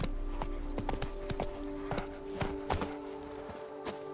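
The horse Roach walks along in Toussaint in The Witcher 3: Blood and Wine, its hooves clip-clopping in a steady, close rhythm of distinct knocks over a faint background hum.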